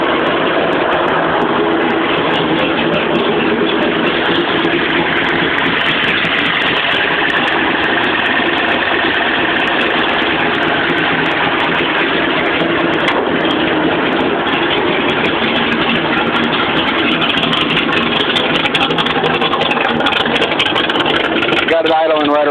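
A carbureted Holley four-barrel Datsun Z car engine with a lip cam idles steadily close by around 1,000 rpm, a loud, even rumble with a slight lope, and a person talks over it throughout.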